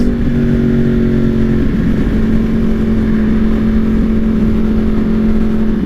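A Yamaha R1 sport motorcycle ridden on a warm day in Colorado, its engine a loud, steady drone with a strong low hum that shifts pitch slightly as it holds speed, close and continuous throughout.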